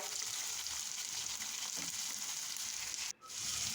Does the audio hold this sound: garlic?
yes